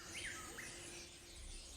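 Short high chirps and twittering from a small bananaquit, a nectar- and fruit-eating songbird in the Manizales area of Colombia, a few quick notes early on over steady outdoor background noise.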